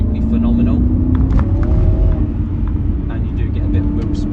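An Aston Martin with the SportShift automated gearbox, a seven-speed with twin-plate clutch, being driven: a loud, close, continuous engine rumble and drone, with a thin tone rising partway through.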